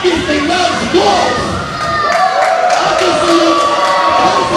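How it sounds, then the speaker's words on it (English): Loud crowd of spectators cheering and shouting continuously at a live wrestling event in Jamestown, with dense overlapping voices and whoops filling the space throughout. "the crowd here in Jamestown obviously loves Wolf!"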